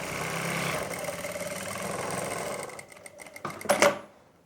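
A sewing machine stitches a winter kurti suit, running steadily and close for nearly three seconds before slowing, followed by a few clicks and a louder clunk as it stops.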